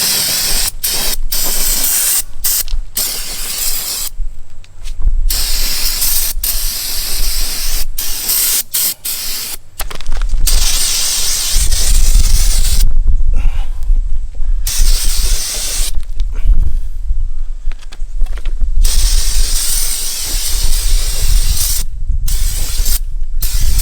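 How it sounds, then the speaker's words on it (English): Brake parts cleaner sprays onto new brake rotors from a Chevy Tahoe or GMC Yukon in loud, close bursts of hiss, some short and some sustained, broken by brief silent pauses. "that's where you want to use some brake parts cleaner. Spray these down"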